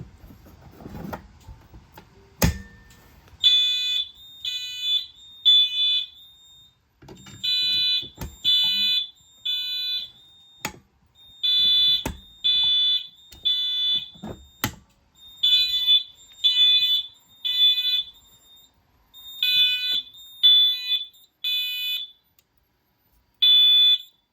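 A loud electronic fire alarm, triggered by a pull station, sounds in repeated pulsing bursts, three quick beeps per group with short pauses, preceded by a sharp click.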